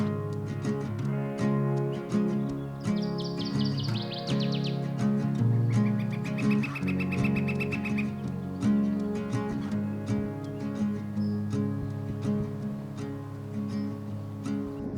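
Yellow-rumped warblers give thin, high chirps and brief trills while feeding over a steady, busy outdoor background with constant low rumble, in Glacier National Park.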